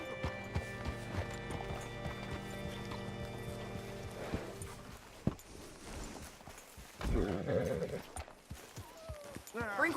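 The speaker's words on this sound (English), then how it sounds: "Hitch your horse up here." Horse hooves clip-clop at a walking pace in Red Dead Redemption 2, with game music and speaking voices layered over the steady footfalls before a louder burst of activity near the end.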